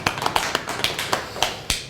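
A small church congregation at a Sunday service claps, individual hand strikes coming in a fairly steady, sparse rhythm, close and distinct, with no other sound around them.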